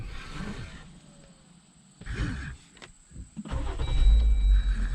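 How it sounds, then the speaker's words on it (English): A 2018-2023 Jeep Wrangler JL that had a cranking no-start fault is shut off and restarted: a short whirr of cranking, then the engine catches and settles into a loud, close, steady rumble. "Turn it off and give you one more start."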